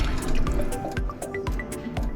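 Beef broth poured into a pot while cooking papaitan, a steady close liquid stream with dripping and splashing, loud and continuous.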